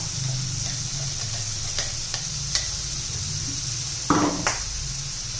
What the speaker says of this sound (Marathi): सर्व मी व्यवस्थित मिक्स करून घेते